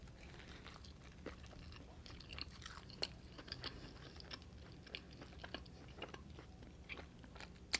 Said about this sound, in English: let's try a chip first